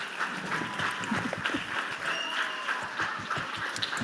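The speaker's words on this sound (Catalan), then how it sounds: "Un aplaudiment, també, per ell." An audience applauds at a book event, a sustained crowd of hands clapping at moderate volume with a faint voice or murmur in the background.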